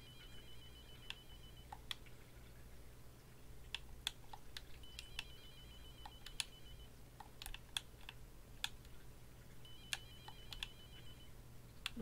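Telephone sounds in the video game Crystal Story: Dawn of Dusk: electronic ringing tones in spaced bursts along with sharp clicks, moderately loud over a steady low hum, with no talking.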